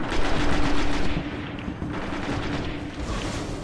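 Rapid gunfire in the video game Destiny, loud dense bursts of automatic shots and booming impacts rattling continuously with no pause.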